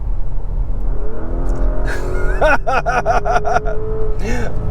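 A Porsche Cayenne S V8 engine revs in a quick run of sharp, punchy blips with a rising and falling note, heard close and loud. A voice talks underneath it.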